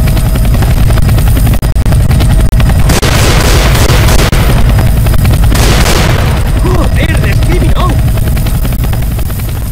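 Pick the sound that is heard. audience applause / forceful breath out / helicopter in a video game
helicopter in a video game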